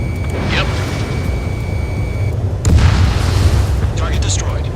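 A booming explosion from a destroyed ground target in the Ace Combat 7 jet combat game, a heavy low rumble rising midway and rolling on under steady engine drone and game sound.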